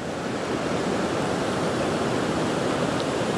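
Rain falls steadily beside the Leitzaran river during a trout-fishing outing, a dense, even hiss that stays constant and fairly loud throughout without pause.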